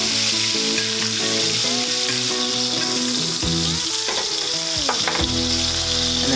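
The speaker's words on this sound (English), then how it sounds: "Now let's just baste this guy with the juices." Steak frying in a hot pan while being basted with its juices, a loud, continuous sizzle and spatter with clinks from the spoon. Music plays under the cooking.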